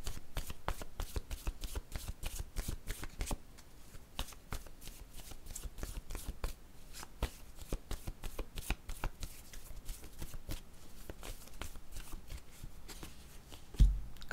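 Oracle word cards are shuffled for a reading: a continuous, close riffle of rapid papery flicks and taps that runs steadily for the whole stretch, with no voice over it.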